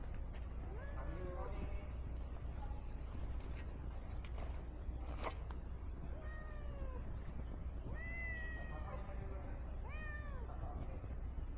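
A cat meows repeatedly on an apartment roof, several drawn-out cries spread across the stretch over a steady low hum, with a sharp creak midway.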